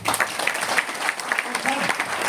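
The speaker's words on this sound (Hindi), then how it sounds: "लास्ट 5 मिनट एक बार ताली बजाइए साहब।" Audience applause at a lecture or seminar, steady dense clapping running throughout at moderate loudness, with a faint voice underneath near the end.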